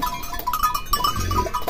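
A three-year-old Boer breeding buck goat bleats in a farm setting, giving a loud, wavering, nasal cry held for over a second, close to the listener.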